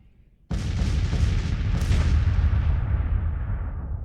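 Civil War artillery batteries fire in the Grand Tactician Civil War strategy game, Gettysburg day two. A single loud boom bursts in after brief quiet, then rolls into a sustained, dense rumble that slowly fades.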